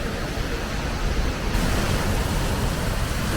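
Steady broadband roar of the Langfoss waterfall in Norway, heard from close by as a constant wash of falling water that stays even and unbroken throughout.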